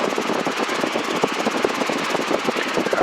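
A Robinson R22 helicopter's engine and rotor run after an autorotation with the throttle off, giving a close, steady rhythmic beat with fast pulses that holds at an even loudness throughout.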